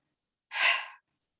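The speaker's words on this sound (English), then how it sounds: "And then a big exhale as you let the shoulders drop." A single big open-mouth exhale during a shoulder-drop breathing exercise: one breathy rush of air, close and fairly loud, lasting about half a second and framed by silence.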